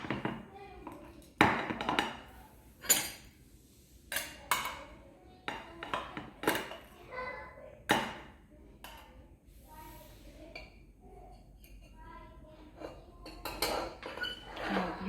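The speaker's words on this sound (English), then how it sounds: "let's cut a slice" A knife slices through a Ferrero chocolate biscuit cake topped with hazelnuts, giving faint scattered taps and clinks of the blade against a plate, with soft speech in the background.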